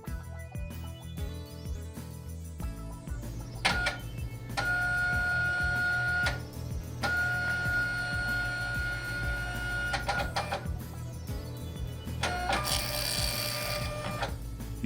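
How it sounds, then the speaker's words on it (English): A Zebra ZT230 label printer restarts and prints a configuration label, giving a steady mechanical hum with motor whirring and intermittent tonal whines, plus a brief higher hiss near the end, with no talking. "Wait for the printer to restart and print a configuration label."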